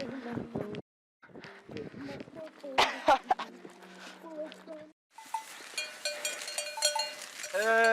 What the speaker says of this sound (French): On est avec nos amis les vaches.